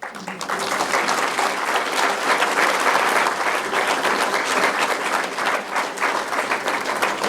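Sustained applause from an audience at an Engineers Day session, a dense wash of many hands clapping that holds steady for several seconds before easing slightly at the end.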